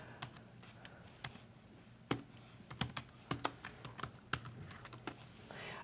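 Fingers typing on a computer keyboard, a quiet, irregular patter of close key clicks with occasional sharper taps and short pauses between bursts.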